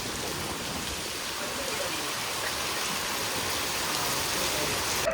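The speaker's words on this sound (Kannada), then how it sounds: "ಎಷ್ಟು ಚೆನ್ನಾಗಿ ಮಳೆ ಬರ್ತಾ ಇದೆ." Steady, dense rain falls in Mangalore on a cool morning, a continuous close hiss of drops on surfaces that stays even throughout with no voices.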